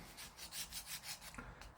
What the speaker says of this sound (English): I'm just getting rid of some excess paint.